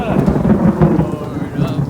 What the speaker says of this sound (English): It's only a little bit of lightning, no big deal.